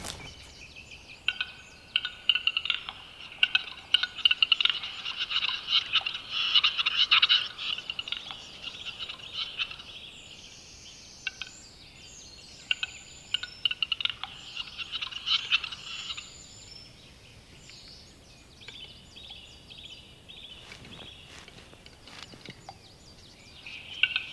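Male game birds call during a courtship display at a communal arena in the Watzmann mountain area: continuous bubbling, gurgling calls overlap from several birds at moderate distance, with a few sharper hissing notes mixed in.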